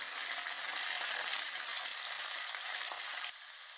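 Pumpkin pieces crackle into hot oil with black cumin and green chillies in a kadai. The sizzle is loud, close and continuous, then eases slightly near the end, with no talking.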